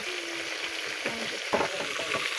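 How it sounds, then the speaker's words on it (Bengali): Chicken pieces brown in hot oil for a roast with a bright, crackling sizzle and occasional clinks of stirring, heard up close. "এখন আমি মুরগি লাল করতেছি রোস্টের জন্য"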